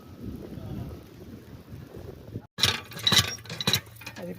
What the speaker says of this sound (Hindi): बारिश शुरू होगी, बारिश।